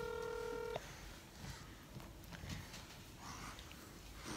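Telephone dialing tones played over a speakerphone, a short run of loud steady beeps that cut off abruptly, followed by faint room noise and a few soft rustles.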